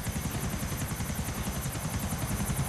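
Helicopter in the video game GTA IV, a steady loud rotor thump with a continuous engine whine, flying close and constant throughout with no voices.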